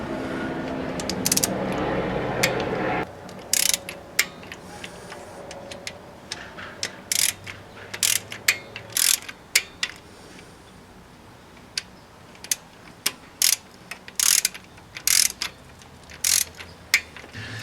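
Rapid ratchet clicks tighten the camshaft chain tensioner bolts on a VW Audi engine, coming in sharp, close bursts of ticks with short pauses between runs, after a brief mechanical rumble at the start.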